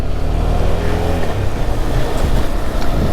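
A KTM Adventure 390 motorcycle riding through misty, cold hill roads near Chikmagalur, its engine a loud, close, continuous drone with a slight rise in pitch partway through, mixed with wind rush and no talking.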